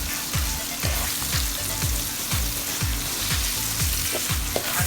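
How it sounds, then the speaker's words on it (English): Tomato paste sauce frying in a pan for chicken pasta, a loud, dense sizzle with a regular rhythm of stirring strokes, about two a second, close up and with no voices. "And then you fry this for like 5 minutes."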